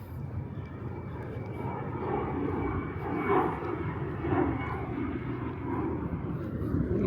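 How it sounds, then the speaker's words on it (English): A fixed-wing airplane passes directly over a building in Queens, New York City, its steady engine roar swelling and holding loud for several seconds above quiet street ambience. "There goes a plane."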